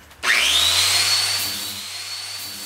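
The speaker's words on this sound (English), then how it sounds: "sander pad on the grinder and just gonna touch it up, clean it up a little bit with this" Angle grinder fitted with a sander pad spinning up and smoothing a welded truck fender, a sudden loud whine rising quickly to a steady high-pitched drone with abrasive hiss, close and continuous.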